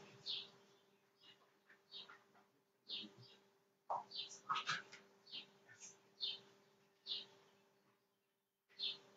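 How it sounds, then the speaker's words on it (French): Outdoor birds chirp in short, sharp calls, scattered and spaced out at moderate distance, with a faint steady hum underneath. "Ah, on entend les oiseaux."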